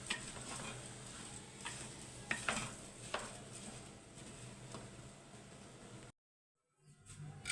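Rice and vermicelli stirred in a pot for Egyptian koshari, with boiling water poured in; a steady bubbling, scraping patter with a few sharper clinks, close and fairly loud, cutting off abruptly near the end.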